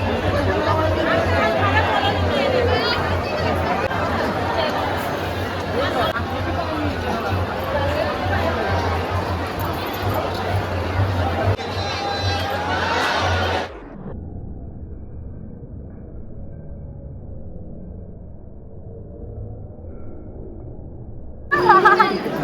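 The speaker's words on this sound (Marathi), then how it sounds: "गर्दी आहे रे गर्दी आहे" Visitors crowd Jyotiba temple in Kolhapur during heavy rain, their chatter forming a loud, close babble with voices talking nearby, before the noise drops abruptly to a muffled quiet near the end.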